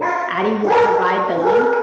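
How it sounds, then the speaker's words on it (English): A dog barks in a couple of short yelping bursts close by, overlapping with a person speaking. "apologies for the dog"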